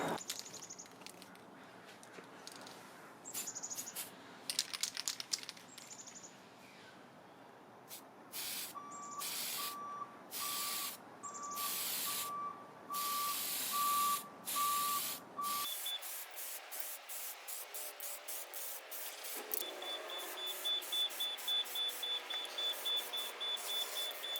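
White paint hisses from a spray can onto an RC truck chassis for a TRX-4 kit, in short repeated bursts with gaps between them, close and fairly quiet, with faint electronic beeps in the background.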